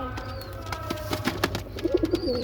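Male pigeons coo repeatedly in a loft while courting a female, a series of low rolling calls rising near the end over steady background hum and scattered clicks, fairly close.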